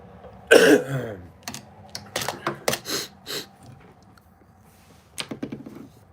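A man coughs hard, a single harsh hack followed by a few more rough coughs and throat clearing close to the microphone, heard outdoors while tying fishing jigs on a cold windy day.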